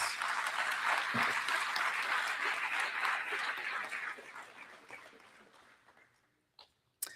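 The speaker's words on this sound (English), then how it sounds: "Let's give them all a round of applause." Audience at a county fair coronation clapping steadily, a dense crowd applause that holds for several seconds, then thins out and fades, leaving a few scattered claps.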